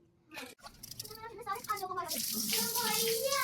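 Water running from a tap while soil is washed off yam (ratalu) in a home kitchen, a steady close splashing flow that builds and holds, with a voice talking over the first part.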